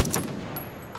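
Gunfire in Far Cry 5 comes as a few quick, close bursts within about a second of battle noise.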